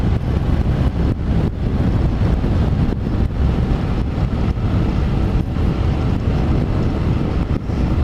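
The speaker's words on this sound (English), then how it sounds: "The exhaust note is awesome. The engine is smooth." A CFMOTO 450SS motorcycle being ridden on rough upstate New York roads: a steady engine and exhaust drone, largely buried under loud, constant wind buffeting on the microphone.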